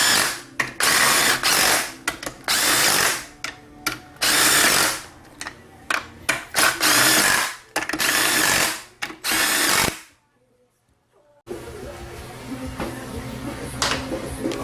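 A power drill drives bolts into a Honda transmission case in repeated loud bursts, each rising and cutting off, near and dominant, followed by a short silence and then a lower background hum.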